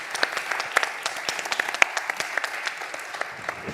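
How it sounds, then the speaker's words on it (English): An indoor audience at an urban innovation talk gives a short round of applause for the speakers, with dense, steady hand clapping at moderate distance. "I'm going to ask you for a big applause for Henk, Xavi, and Nayib"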